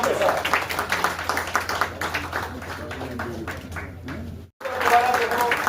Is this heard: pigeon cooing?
no